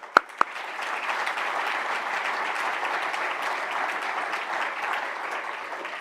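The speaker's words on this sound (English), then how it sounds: "So I'd just like to have a round of applause because they are in this room." Indoor audience applause at a summer party: two sharp early claps, then a steady, sustained wash of many hands clapping at moderate volume.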